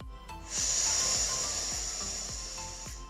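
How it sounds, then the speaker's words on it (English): A slow, steady breath during a seated yoga practice, a long soft airy hiss that swells and then holds evenly for a few seconds, close and alone with light background noise. "And inhale and exhale."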